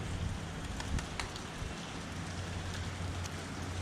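Steady rain falls across the whole stretch, a dense even hiss with scattered louder drops and a low rumble underneath, no voices.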